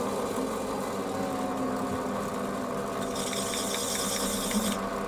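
A Warco WM180 lathe runs steadily while a tool chamfers the edge of a register, with a constant motor hum and a faint higher cutting rasp joining partway through.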